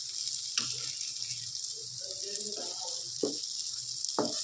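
Bottle gourd slices fry slowly on a tava with a steady, quiet hiss of sizzling oil, broken by a few soft knocks and scrapes.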